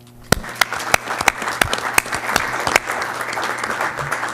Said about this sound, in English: I would like us to give him a round of applause if you don't mind.